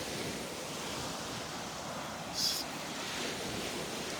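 Ocean surf rolls onto the beach at Delnor-Wiggins on a morning with small waves churning up sand, giving a steady wash of breaking water with a slight swell near the middle and no voices.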